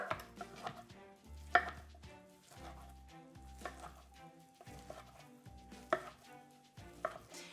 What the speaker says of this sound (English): We're gonna cut it into cubes so we have a really nice bite-sized pieces.